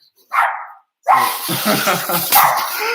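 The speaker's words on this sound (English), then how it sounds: "look, the dogs are barking." Dogs bark outdoors at middle distance, a short yip followed after a pause by a burst of overlapping barks that carry on loud and busy to the end.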